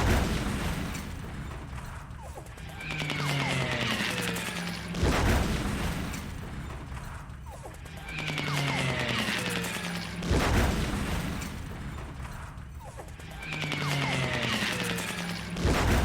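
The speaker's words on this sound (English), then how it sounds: "Seriously, this is a lot of bombs." Bombs exploding during a War in the East strategy game, repeated deep booming blasts about every five seconds, each followed by a rumbling, crackling tail with faint whistling descents, loud and continuous without talk.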